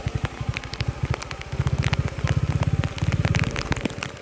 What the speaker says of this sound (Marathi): पूर्ण तुफान पाणी वाहत आहे